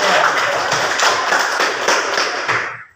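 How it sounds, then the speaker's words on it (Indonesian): A classroom group claps for a student team, a dense burst of many hands that holds steady, then fades out over the last half second. "Tepuk tangan buat kelompok 3"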